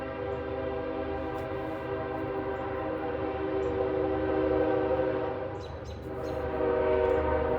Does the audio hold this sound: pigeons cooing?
no